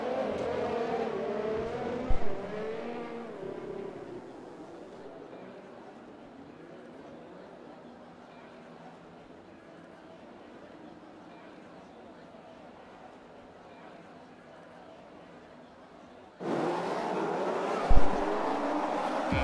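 Race cars lined up on the grid before lights out at the Abu Dhabi Grand Prix in an F1 league racing game, with engine drone and revving at moderate level, louder bursts at start and end, plus a voice talking.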